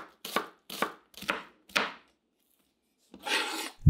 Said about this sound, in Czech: Na drobné kousky nakrájím 2 cibule.